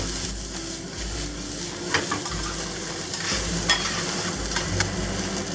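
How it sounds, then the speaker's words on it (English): Shallots stir-fry in a hot pan for a garlic scape dish, a continuous close sizzle broken by repeated scraping strokes of a spatula against the pan. "We'll add the shallots first. We'll cook this for about 30 seconds."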